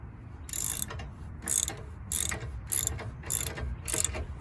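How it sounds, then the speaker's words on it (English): A socket wrench ratchets as hitch bolts are tightened on a tow hitch, in six evenly spaced bursts of quick clicking over a low background hum. The clicks are fairly close and quiet, with no talk. "So then you take your socket wrench"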